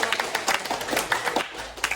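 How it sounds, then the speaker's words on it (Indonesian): A school class claps hands together after a lesson, a quick, uneven patter of individual claps from a small group, fairly soft and close, lasting about two seconds. "tepuk tangan buat kita semua karena pelajarannya sudah"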